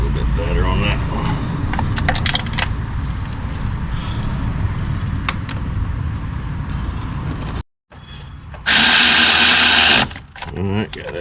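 Power drill driving bolts on a Lexus RX 300 starter, a loud sustained whir up close that cuts out briefly and returns in a short high-pitched burst.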